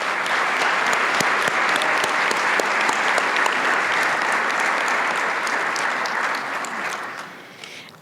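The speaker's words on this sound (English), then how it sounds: "So let's give him a round of applause." Large convention audience at the Florida Bar annual general assembly applauding an award honoree, dense steady clapping that holds loud for several seconds before tapering off near the end.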